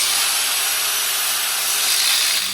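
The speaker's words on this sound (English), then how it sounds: "went as far as I could with the angle grinder for accuracy" Angle grinder cutting through a car strut for a 1972 Datsun 240z coilover install, a loud, continuous high-pitched grinding whine held steadily throughout, close up with no talk.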